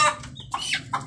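A chick in an incubator, one with a bent leg, gives a few quick, high, thin peeps in close succession, near and clear, with no talking.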